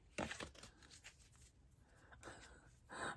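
Tarot cards being shuffled by hand, a few soft papery riffles and rustles in short bursts separated by quiet pauses, close and faint.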